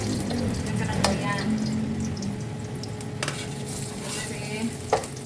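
Ginger sautés in a pan for a chicken and glass-noodle dish, a close, steady sizzle broken by a few sharp clinks of a utensil, with faint talk in the background.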